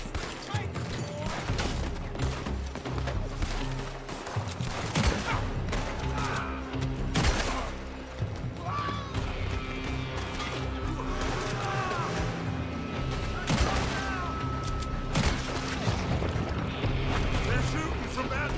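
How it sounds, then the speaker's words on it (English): Gunfire in Red Dead Redemption 2, with repeated shots and crashes over a dense, busy game mix while voices shout throughout. "They're shooting from that building!"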